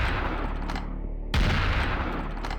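Rapid automatic gunfire in a video game, loud and dense, with a brief drop in intensity just past the first second before a fresh burst resumes hard and keeps going.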